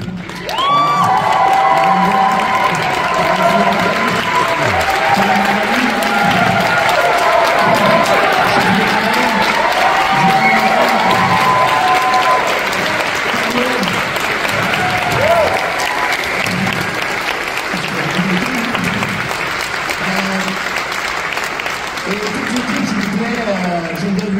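A theatre audience applauds Noah Parker with sustained, loud clapping and some cheering that fills the whole stretch, while voices carry over the crowd throughout.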